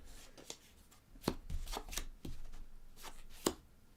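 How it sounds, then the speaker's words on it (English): Quiet, sharp card snaps and slides as two cards are drawn from a Stonesaga board game deck, a handful of crisp, close clicks and shuffles spread irregularly with no talking. "So I'm going to do one more random draw here of 2 cards."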